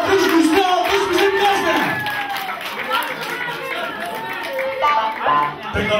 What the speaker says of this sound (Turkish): Yüksek alkış, güçlü alkış bizim